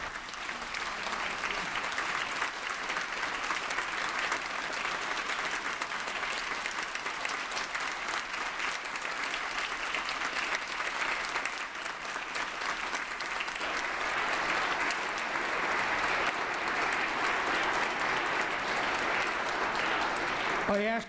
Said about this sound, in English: ask my colleagues to join me in a round of applause